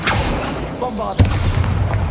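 A Bombarda blasting spell from Hogwarts Legacy goes off as a single sudden, loud boom after a spoken incantation, then rumbles briefly.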